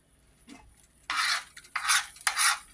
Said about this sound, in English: you'll probably hear the sound of the spoon with this.